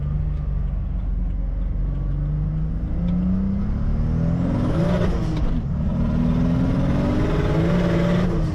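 A car with a single-turbo BMW N54 engine idles and rolls slowly into a parking lot, a steady low engine hum with gentle rises in pitch as it creeps along, close and continuous.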